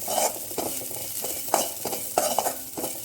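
Ridge gourd peel sautéed in a pan for chutney, with repeated spatula scrapes and stirs every half second or so over a steady close sizzle.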